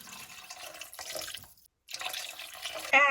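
Chicken stock pours into a soup pot of hot Italian sausage and bean soup, a close gurgling stream that stops briefly, starts again and ends with a sharper clatter.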